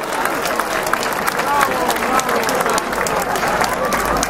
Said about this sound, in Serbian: Jel može za njih jedan aplauz što su nam podarili ovako princezu?